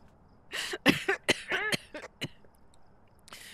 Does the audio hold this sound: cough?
yes